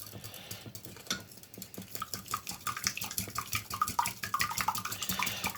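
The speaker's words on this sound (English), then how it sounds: "Then get my whisk out. Bust all them yolks." Rapid clinking strokes of a whisk beating eggs in a bowl for an omelette for two, Yorkshire style, a steady close rhythm of sharp taps with no talk.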